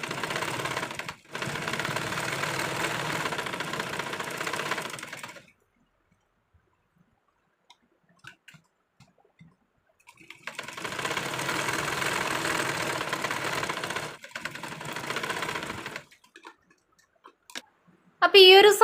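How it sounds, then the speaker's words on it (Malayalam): Electric sewing machine stitching a princess-cut blouse, running in two long steady bursts of rapid whirring stitches separated by a quiet pause, close and fairly loud, with a short clatter at the end. "ഞാനിപ്പോൾ സ്റ്റിച്ച് ചെയ്തേ കൊടുക്കുന്നുള്ളൂ."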